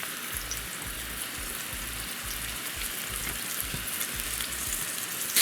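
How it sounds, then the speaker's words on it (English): Onions, garlic, pepper and okra sautéing in vegetable oil in a pot over medium-high heat, giving a steady, even sizzle and crackle throughout, with no talking. "adding some vegetable oil to the pot, going in with the onions, the garlic, pepper,"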